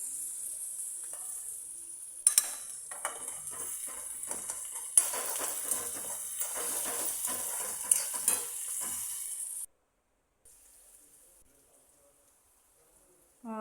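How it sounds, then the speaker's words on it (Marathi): Curry leaves and chopped onion sautéing in hot oil in a wok, a steady close sizzle with stirring scrapes for about ten seconds before cutting to near silence and faint clicks. "कढईत तेल टाकलेलं आहे. कढीपत्ता, कांदा टाकून घेऊ. चांगलं परतून घेऊ त्याला."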